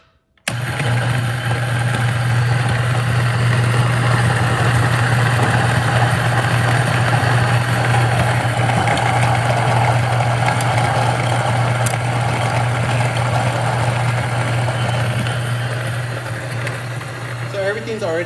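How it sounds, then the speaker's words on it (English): A Niche coffee grinder grinds Starbucks Casi Cielo beans with a steady, loud, close motor hum and whirring drone that runs continuously for the length of the clip, then eases slightly toward the end. "I'm using the niche grinder."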